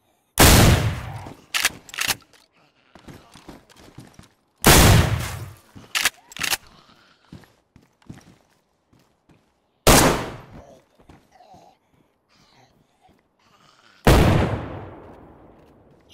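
Loud gunshots ring out in the video game DayZ: single sharp blasts and short bursts, spaced several seconds apart, each trailing off in a brief echo. Softer clatter and movement fill the gaps, and no one speaks.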